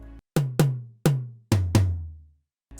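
Sampled tom drum hits in a beat come in an uneven rising run, each a punchy thump with a booming tail falling away, five hits spaced close and loud before a brief gap and another strike.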